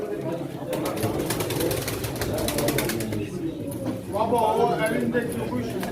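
Pigeons coo and flutter amid a busy pigeon auction in Çorum, with a crowd of voices talking over the birds and occasional clattering throughout.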